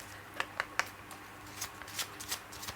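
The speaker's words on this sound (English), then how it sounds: "let's get some Lenormand cards for you first of all" Lenormand cards are shuffled at a card-reading table, producing soft close riffles and light slaps spaced irregularly, quiet with no talking.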